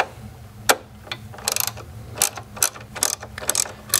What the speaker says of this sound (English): So 10 millimeter socket, I'm going to loosen this up.